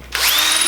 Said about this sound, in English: I've already pre-drilled this one. So just go down, touch up.